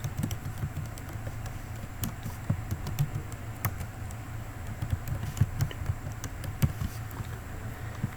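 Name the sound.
typing on a computer keyboard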